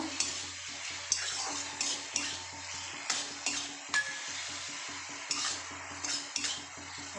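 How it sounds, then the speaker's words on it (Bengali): A spoon stirs dark soy sauce through a chilli beans paneer mixture in a pan, giving regular scraping and clinking strokes roughly once a second over a low steady background hum. "ভালো করে মিক্সড করে নেব"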